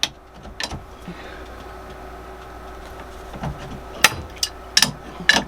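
A wrench tightens a lock nut on a boat steering rod end, giving a few sharp metallic clicks and taps, sparse at first then clustered near the end, in a quiet space.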